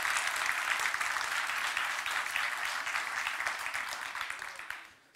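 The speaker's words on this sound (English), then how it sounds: "Let's give a round of applause to our next speaker, Ryan, from Anocca" Conference audience applauding a sponsor's next speaker at a Python event, steady dense clapping from a sizable crowd throughout, fading out at the very end.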